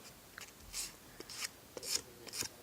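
Sandpaper rubs a small marble-clay bowl in short, quiet rasping strokes, about six scratchy passes in uneven rhythm, close up and alone with no talk.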